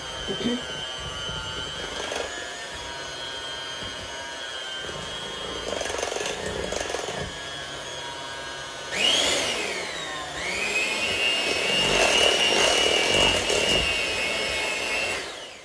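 An electric mixer whirs through strawberry cake batter with a steady motorized drone, rising louder and higher in pitch partway through as the beaters dig in, while someone talks over it.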